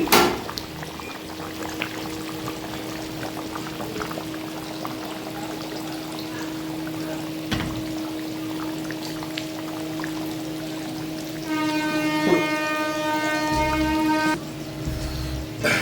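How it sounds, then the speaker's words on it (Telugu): A pot of Nellore-style fish curry (chepala pulusu) bubbles over a medium flame, with soft irregular popping and simmering against a steady background hum, punctuated by a few clinks and a brief tonal beeping. "ఫ్లేము చూడండి మన పులుసు ఏదైతే ఉందో మస్తుగా ఉడుకుతుంది"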